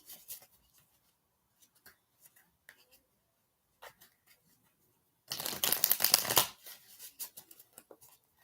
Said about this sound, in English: Shuffles, two more shuffles.